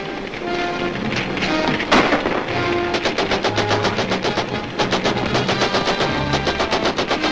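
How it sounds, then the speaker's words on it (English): Rapid machine gun fire from a 1941 film serial, bursts of sharp rhythmic shots rattling loudly and continuously over a busy action-scene soundtrack, with a heavy thud near the start. "Protect you from the gunfire."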